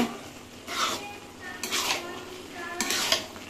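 Utensil scraping and clinking against a pot as a dish is stirred after coriander leaves are added, three bursts of metallic scraping at a moderate distance with no talk.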